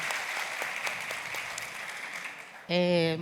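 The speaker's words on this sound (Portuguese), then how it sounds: "Pode aplaudir." Steady applause from an audience fills the clip with dense clapping, and near the end a loud tonal sound, like a voice or instrument, takes over.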